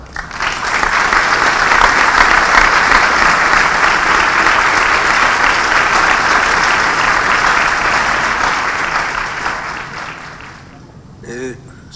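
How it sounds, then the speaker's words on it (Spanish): An audience at a lecture gives a loud, sustained round of applause to welcome philosopher Fernando Savater. The clapping swells quickly, holds dense and full for about nine seconds, then thins out. A voice sounds briefly at the end. "recibamos con un fuerte aplauso al doctor Fernando Savater"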